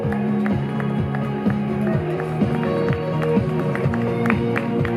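Spectators clap and cheer for a runner arriving at a street race through town alleys, a steady crowd applause close by over rhythmic music with a strong beat.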